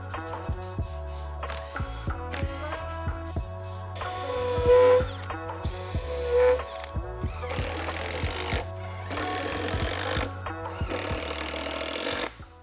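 A power tool, likely a drill or driver, backs screws out of a wooden crosscut sled: repeated whirring bursts with ratcheting pulses start and stop in a steady rhythm, close and fairly loud, no talk.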